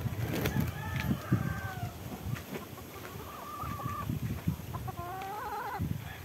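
Hens cluck and churr in drawn-out calls amid a steady background hum of other farmyard noise, moderately close, with no voices.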